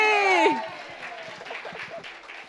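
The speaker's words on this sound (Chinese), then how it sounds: "我们再次给他们掌声鼓励。" An audience at a small-group performance competition breaks into scattered, moderately loud clapping just after a voice ends, and the applause tapers off gradually.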